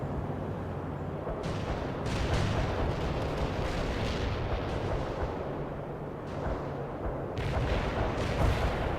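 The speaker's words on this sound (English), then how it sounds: "Artillery firing." Artillery fire in the real-time strategy game World in Conflict, a continuous rumbling barrage of deep booms and bursts layered over each other, heavy and sustained throughout with a few sharper volleys.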